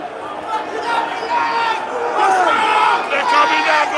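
Large protest crowd surging past police, a dense roar of many voices with shouts and chatter, loud and close throughout.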